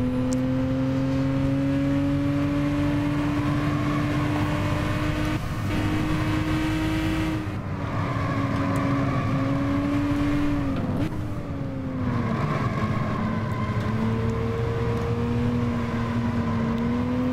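Race car engine in Gran Turismo 6 revs steadily and loud on its own, pitch climbing through a gear and then dipping briefly after a missed upshift before building again.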